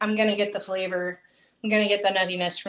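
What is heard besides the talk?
No everyday noises stand out.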